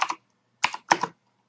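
Three short bursts of keystrokes on a computer keyboard while typing a command, separated by brief silences, close and clear with no voices.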